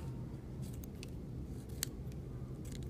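Scissors snip the corners off a small paper square to round it, several soft crisp cuts at close range over a low steady background hum.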